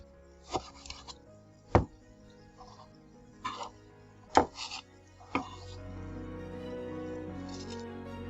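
A knife cuts tomatoes into very thin slices for garnish in a home kitchen, with sharp separate chops against a board at an uneven pace, close and fairly quiet, and a soft rustle afterward.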